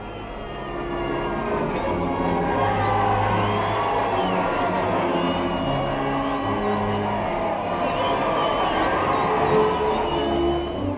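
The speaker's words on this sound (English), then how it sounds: "followed by the same tumultuous cheering" A large, distant crowd cheers and whoops continuously as American troops arrive in England during the First World War, forming a dense, sustained roar.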